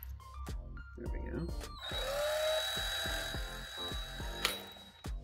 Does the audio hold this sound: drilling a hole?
yes